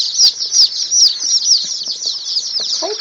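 Old English Bantam chicks peeping in a steady stream of shrill, high, downward-sliding cheeps, several birds calling close together and loud, with a few soft rustles underneath.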